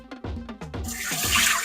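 Soaking water poured off rice for Pakistani kheer, a few quick splashy glugs that build into a steady rushing pour, close and alone.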